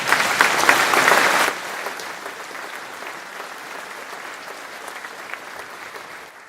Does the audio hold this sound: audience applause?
yes